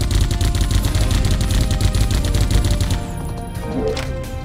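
Rapid automatic gunfire from a magazine in the shooter game Geist, a dense, loud burst of shots for about three seconds that cuts off and leaves a faint ringing tail.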